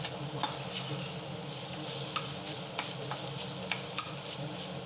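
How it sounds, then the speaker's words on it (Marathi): Paneer pieces frying in hot oil for a pizza topping give a dense, steady sizzle up close, broken by a few light clicks of a stirring utensil. "ते पहिल्यांदा तेलामध्ये असं तळून घ्यायचं"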